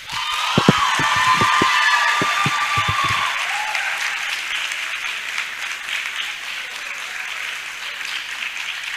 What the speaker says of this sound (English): Please keep on clapping, keep on clapping,